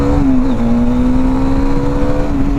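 A Bajaj Dominar motorcycle pulls hard after a downshift, its engine holding a steady, loud droning note that dips briefly and then climbs slightly as it accelerates, close and continuous with no talking.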